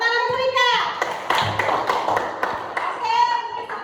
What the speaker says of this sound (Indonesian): Tepuk tangan untuk Ika.